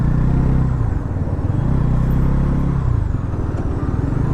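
A Bajaj NS400Z motorcycle being ridden, its engine droning loud and close under heavy wind rush, pitch dipping slightly as it slows, with no voices.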